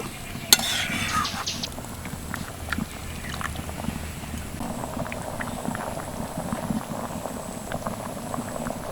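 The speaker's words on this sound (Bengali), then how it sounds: "এবার আমি ভালো করে ফুটিয়ে নেব" Chicken ghugni boiling hard in a cooking pot, a steady close bubbling and gurgling with a brief stir or clink near the start, continuous and unaccompanied by talk.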